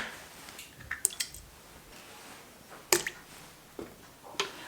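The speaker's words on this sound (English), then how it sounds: "adding the egg." An egg goes into a bowl of milk, oil and water for homemade baklava dough, giving a few soft wet drips and squishy splashes, close and quiet, with sharper clicks of shell or bowl around one, three and four and a half seconds.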